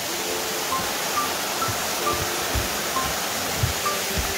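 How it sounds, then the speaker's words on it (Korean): Eunyu waterfall on a mountain trail in the Yeongnam Alps pours in a constant broadband roar, steady and close, with faint scattered sounds over the rush of falling water. "자, 폭포 멋있습니다."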